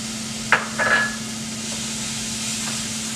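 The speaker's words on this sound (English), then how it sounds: "We're going to add our cauliflower rice." Cauliflower rice drops into a pan of sautéing mushrooms, onions and garlic: a sharp clack and a brief clatter as it lands, followed by a faint, steady sizzle under a low hum, no talking.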